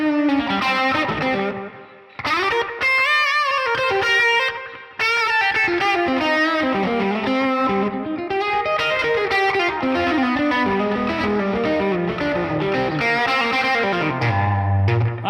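Distorted electric guitar through a Line 6 Helix Stadium XL modeler, played loud and continuously with sustained melodic lines, chords and effects-laden tone, alone with no talking over it and only brief pauses.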